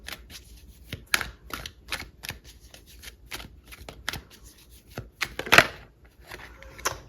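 Tarot cards are shuffled and pulled close up in a card-reading session, a run of quick papery riffles and sharp flicks, the loudest snap near the end.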